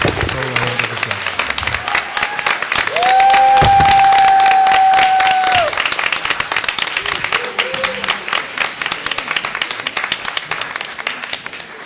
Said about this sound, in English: let's give her and the Moline team a round of applause